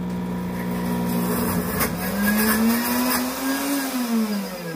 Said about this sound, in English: I'm just going to push start, and this is going to blend that up.